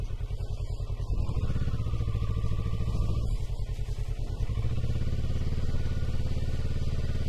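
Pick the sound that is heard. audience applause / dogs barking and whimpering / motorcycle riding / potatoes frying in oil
motorcycle riding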